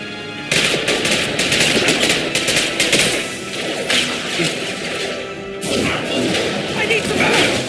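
Rapid, dense gunfire in the sci-fi shooter Mass Effect 2, with loud cracking bursts and whooshes during a firefight, sustained throughout with a brief lull mid-way.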